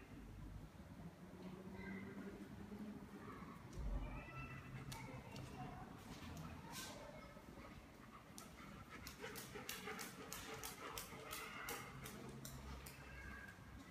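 A dog pants steadily and close by for the whole stretch, with faint whimpering and small movement noises in a quiet outdoor setting.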